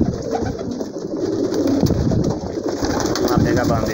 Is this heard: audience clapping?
no